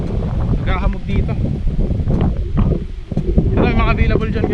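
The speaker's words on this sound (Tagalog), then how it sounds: "Yung hangin dito guys, lakas lalo dito pagkagabi" Strong wind gusts across a hilltop site in Tagaytay, making a loud, continuous rushing roar against the microphone while someone talks over it.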